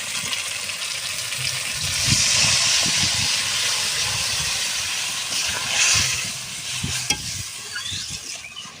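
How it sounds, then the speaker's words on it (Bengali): Boiled mung dal poured into a hot pan with spices and turmeric, giving a steady broad sizzle and hiss with stirring scrapes, loud and close, no talk. "সেদ্ধ করে রাখা মুগের ডালটা আমি ঢেলে দেব।"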